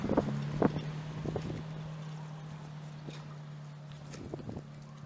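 Donkey hooves clip-clop along a local street in Trelawny, Jamaica, a few irregular steps standing out near and moderately loud over a steady low engine-like hum and faint background voices.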